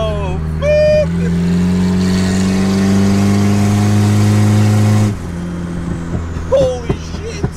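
A turbocharged wagon engine revs hard at high boost with a malfunctioning wastegate, a loud sustained roar with whining harmonics held for several seconds before dropping off, while excited voices exclaim over it.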